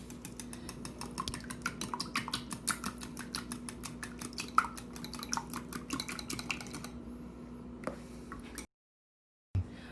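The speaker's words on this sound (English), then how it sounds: "I have a cup of heavy cream. And I'm going to whisk this up." A whisk clatters rapidly against a bowl, beating two eggs with a cup of heavy cream, quick close ticking strokes for several seconds that stop abruptly, leaving near silence.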